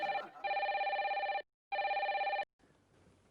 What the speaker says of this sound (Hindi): अरे भाई मिर्जा, मोबाइल में नंबर तो देख लिया करो।